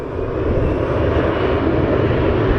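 An airplane passes overhead, a loud, steady engine roar that fills the whole stretch without letup, heard alone with no voices.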